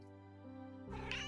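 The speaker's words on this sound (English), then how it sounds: "That is a cat." A single short cat meow from the game Silktrails 2: Cats in the Grove rises over a soft musical background, brief and fairly clear.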